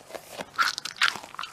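Squishy crunching and crackling from a stress ball with big beads being squeezed, several close bursts in quick succession, no talking.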